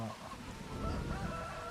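Chickens cluck in the farming game Farming Simulator 25, a faint, soft clucking over a low background murmur, heard close but quiet.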